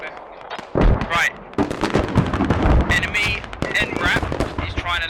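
Video-game artillery strike explosions boom and crackle in a dense, loud run of blasts, overlapping with voices calling out over the barrage.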